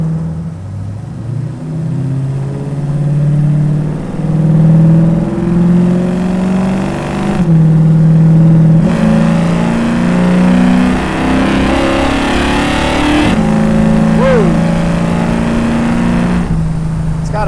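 A 1967 Ford Mustang Fastback resto-mod with added performance accelerates hard through several gear changes. A loud, close engine note climbs in pitch again and again, with brief breaks at each shift.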